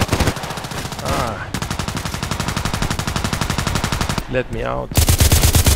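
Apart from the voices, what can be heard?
H&K 416c rifle gunfire in the video game Contract Wars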